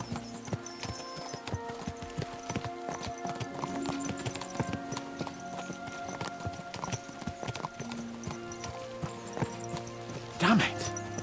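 Horses clip-clop at a steady gallop in the medieval role-playing game Kingdom Come: Deliverance II, with dense rhythmic hoofbeats throughout and a brief whinny near the end, under background talk.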